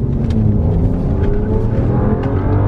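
A BMW 535i revs hard as its wheels spin, giving a loud, close, sustained engine roar with some rough texture and no voices.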